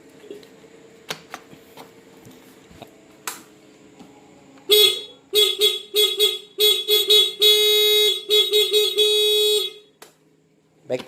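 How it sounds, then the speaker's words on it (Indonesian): Car horn sounding after its horn button was repaired, a series of short and longer blasts, loud and close, after some faint clicks and taps, before ending in quiet. "akhirnya tombol klaksonnya sudah berfungsi dengan normal tanpa harus mengganti saklar satu set"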